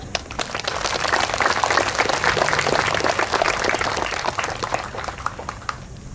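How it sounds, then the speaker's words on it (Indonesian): A crowd at an outdoor solidarity gathering of flower-scattering and prayer breaks into dense, sustained applause that swells and then gradually thins toward the end. "Saya boleh minta tepuk tangannya?"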